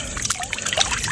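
Cold water pours and trickles into a goldfish pond set with floating volcanic rocks, a brief close splashing dribble with quick irregular bursts.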